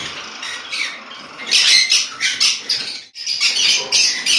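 Pet birds, including conures, java sparrows and lovebirds kept for home breeding, give shrill overlapping squawks and chirps in a dense, close chorus that dips briefly before resuming.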